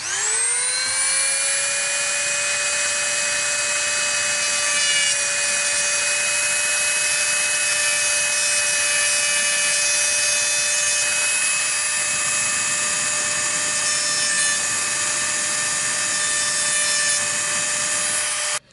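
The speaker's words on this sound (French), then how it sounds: "je l'ai pas mal meulé" An angle grinder cuts into a BMW 316i E36 speedometer part, a loud steady high-pitched whine held for the whole stretch and close by, with no talking.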